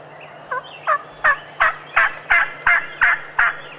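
A wild spring turkey gobbler sounds off in a rapid series of about nine loud, close gobbling notes, evenly spaced in a steady rhythm against a quiet outdoor background.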